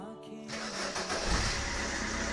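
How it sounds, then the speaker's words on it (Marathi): A diesel Maruti Ertiga engine with a black smoke and pickup problem cranks briefly, then catches and settles into a loud, continuous rumbling idle. No one speaks. "आता आपण बघूया गाडी स्टार्ट"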